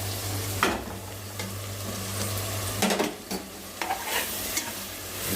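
Dried fish pieces and brinjal fry and sizzle together in a pan, with stirring scrapes and a few utensil knocks against the pot over a steady hiss.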